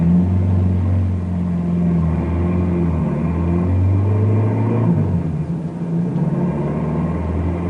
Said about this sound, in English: He turns around and starts back toward the barricade.